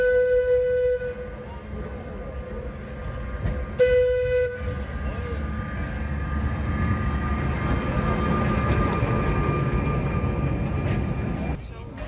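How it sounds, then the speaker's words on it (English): Historic 1913 tramway running to Port Soller, Mallorca, with two short tonal horn toots near the start, then a rising rumble and clatter of the moving tram building steadily to the end. "For now, I'll travel to Port Soller thanks to its historic tramway."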